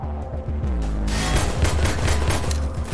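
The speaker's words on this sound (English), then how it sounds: "Stop shooting me!" Gunfire in the video game Half-Life 2, a dense burst of rapid shots and booms aimed at the player, loud and continuous over rumbling game sounds.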